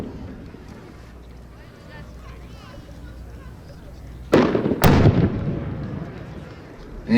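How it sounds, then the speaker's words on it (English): Two sharp, loud bursts of homemade aerial firework shells explode in quick succession partway through, the second stronger and trailing off into a rumbling decay, over a steady outdoor background at a winter pyrotechnics gathering. "We've got Robert and Wendy's shells next"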